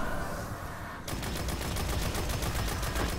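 Rapid bursts of Devil's Dawn fire in Destiny, starting abruptly after a quiet second and then repeating in a fast, steady rhythm, loud and close with no talking.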